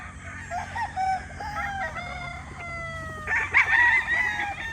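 Local banded gamefowl roosters crow repeatedly with clucking in between, close and fairly loud over a low farmyard rumble, with a burst of louder crowing near the end.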